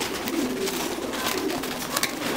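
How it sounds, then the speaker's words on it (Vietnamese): Large Thai Titan pigeons in a farm coop give low, soft cooing calls, a steady murmur of several birds close by with a few brief flutters, no talk. "Đây, những con bồ câu rất to các bạn nhé"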